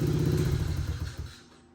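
Small Honda CRF dirt bike, a 70 or 100 with full exhaust and emissions delete, idling steadily with a low throbbing rumble that fades off toward the end.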